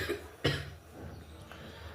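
A single short cough from someone with a cold, close and fairly quiet, followed by a fainter second throat sound in a calm room.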